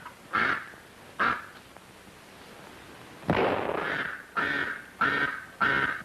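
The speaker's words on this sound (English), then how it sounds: "Ah, a duck." A duck quacks six times in short, nasal bursts: two well spaced calls, then a longer rough one and three quick quacks close together, all fairly near over a quiet background.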